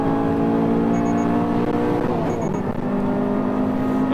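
A Toyota GR86 on Nankang CR-S tyres accelerating hard around Tsukuba Circuit, a loud steady engine drone with strong harmonic bands that rise and fall slightly, continuous and close for the whole stretch, with no talking.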